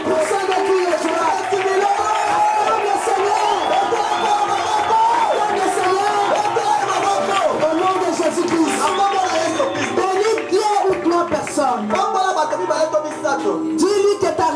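A church congregation acclaims and shouts for joy, a dense crowd of cheering, whooping and clapping voices sustained loudly throughout, with a voice speaking among them.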